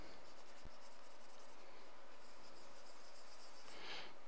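A pencil scratches over paper during a drawing session, a soft, steady rubbing that runs the whole time, faint and alone with no talking.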